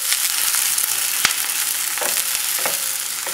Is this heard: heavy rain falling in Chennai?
no